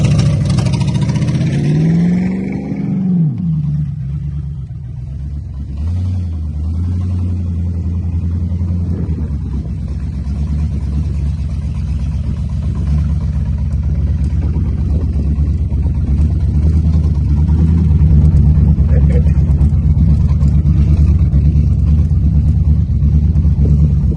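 A 1983 Buick wagon's engine, back running after a revival, rises in a quick rev before settling into a steady, loud idle that holds close and continuous for over twenty seconds.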